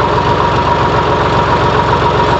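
A used HMT 5022 farm tractor idles up close, its diesel engine throbbing loud and steady with an even low pulsing rhythm and no talk over it.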